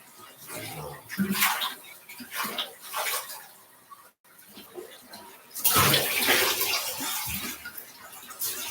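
Running water while hair is rinsed, a close hiss of splashing shower or tap flow that swells and fades, louder in the second half, with a brief gap midway and faint voices mixed in.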